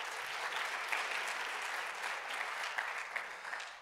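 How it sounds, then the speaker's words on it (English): An audience at a jazz, spirituals and protest concert at Michigan State applauds, a dense, steady wash of clapping from a large crowd that holds level throughout, with no voices over it. "Yes, you can clap."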